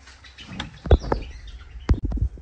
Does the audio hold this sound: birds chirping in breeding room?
yes